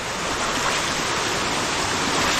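Overflowing irrigation water in a garden rushes in a loud, steady broadband roar, constant and close for the whole stretch, with no voices.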